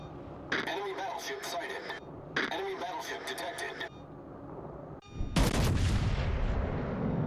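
Two heavy gun salvos from the battleship Minnesota in World of Warships, each a loud, dense burst lasting over a second with a short gap between, then a louder booming impact roar that rumbles on, with sound effects under a voice.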